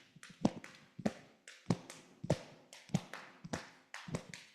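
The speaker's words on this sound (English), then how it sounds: "So my right hand is doing the triple meter" One person taps out a triple-against-duple polyrhythm with both hands, sparse overlapping taps and claps in an uneven repeating pattern, close and fairly quiet, with no voices.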